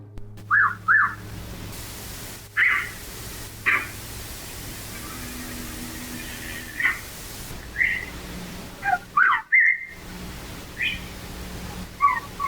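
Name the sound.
whistling back and forth outdoors at night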